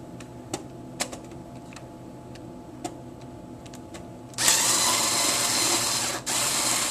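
A T10 screwdriver works a security screw on a PS3, giving a run of sparse, sharp ratcheting clicks. A louder, steady rasping burst follows it, then a brief dip and a return, all without speech.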